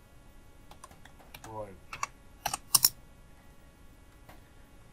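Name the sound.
typing on a computer keyboard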